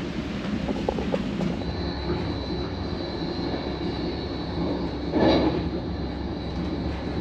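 An ETR-470 high-speed train runs from Thessaloniki to Athens, heard from inside the carriage as a steady rolling rumble with a faint high whine and a brief louder swell near the end.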